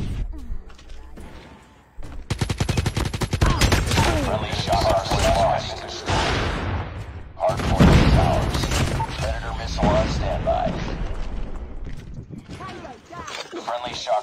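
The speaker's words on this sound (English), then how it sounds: "Ay, may sentry gun, pre." A sentry gun in Call of Duty Mobile fires rapid automatic bursts, loud and sustained, with dense gunfire and other game noise layered over it.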